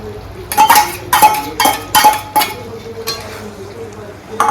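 Metal utensils clink and scrape against a cooking pan while desi chicken is prepared and oil is added, a series of sharp clanks and stirring taps with faint sizzling beneath and people talking nearby.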